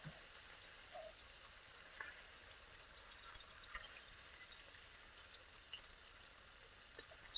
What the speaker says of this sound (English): Oh, look at that sizzle.